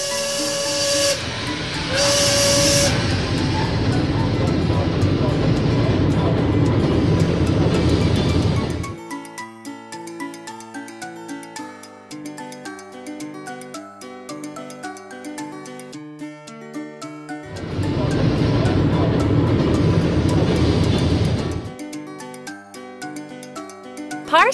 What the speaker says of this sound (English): Steam engine.